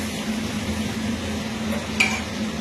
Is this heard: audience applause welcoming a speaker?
no